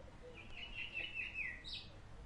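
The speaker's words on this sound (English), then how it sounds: "The birds chat in the trees as kids play around in the grass fields." Birds chirp in a park in a video game, a faint high warbling call over a steady low ambient hum.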